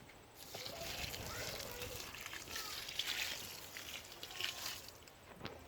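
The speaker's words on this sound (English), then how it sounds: "Then we're going to add some water on the top." Water pours and trickles steadily for several seconds over compost, splashing softly at close range.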